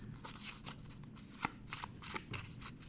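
Tarot cards being shuffled for a card reading, a soft, continuous riffling and flicking of the deck with quick rhythmic slaps, fairly quiet and close.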